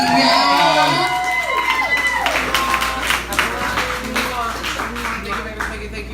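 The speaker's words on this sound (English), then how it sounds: "Please give a round of applause for London Lestrange and Sutton Iman." An audience bursts into applause and cheers for two guests on a talk show stage, the clapping rising after a sliding musical sting and continuing as scattered crowd noise and shouts.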